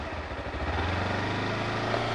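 A motorcycle engine runs steadily with a slight touch of throttle, a low continuous rumble at close range with no talk.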